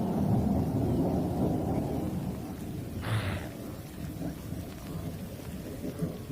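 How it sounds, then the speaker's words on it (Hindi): Steady, loud summer rain pours down during a thunderstorm, with a low rumble of thunder rolling beneath it and a brief brighter crack partway through. "और साथ में गर्मियों की बारिश।"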